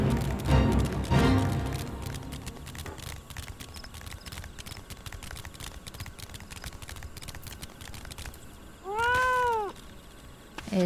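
A cat meows in the Final Fantasy XIV game, one rising and falling call standing out clearly near the end over a steady low background of game ambience.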